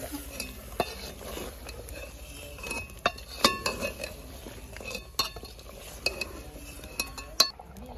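Fried potatoes being stirred in a pan, with a spoon scraping and clinking against the metal in irregular bursts over a faint background sizzle.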